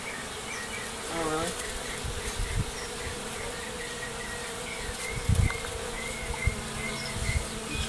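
Bees buzz around a hive found during exterminator work, a dense, steady swarm drone filling the space up close, with a brief remark from a person and occasional bumps underneath.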